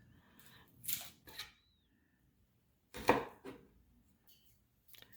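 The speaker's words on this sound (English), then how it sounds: "you're peeling the onions, getting them all ready to be cut" A few sharp knife chops through onions on a cutting board, spaced apart with quiet pauses between them, close and fairly soft.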